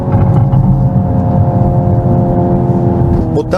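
Hyundai Ioniq 5 N electric car playing its simulated combustion engine sound while driven dynamically, a steady droning, loud tone with layered harmonics held for several seconds, alone without speech.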